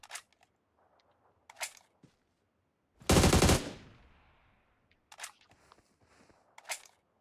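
A single short burst of automatic gunfire from the video game PUBG Mobile cracks loudly in the middle, surrounded by faint scattered game sounds.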